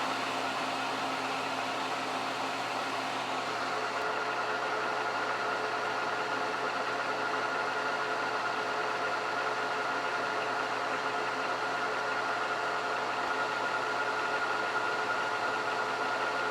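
A metal lathe takes a finishing cut on a hardened 4140 steel pin at 1,000 RPM. It gives off a steady, unbroken mechanical hum with a faint whine, even and moderately loud throughout.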